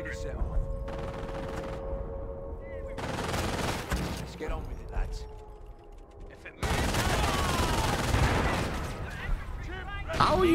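Heavy gunfire in the World War II strategy game Company of Heroes, British campaign: dense bursts of rifle and machine-gun fire with thudding blasts, continuous and loud, with a voice talking in between.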